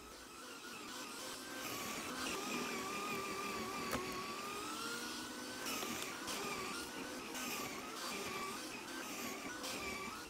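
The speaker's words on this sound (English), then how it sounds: "Now for the horizontal pass with the Scarifier." A Sun Joe AJ798E electric scarifier runs steadily across a lawn with its blades set low, giving a continuous droning whir with a faint rising tone, loud and close, with no talking.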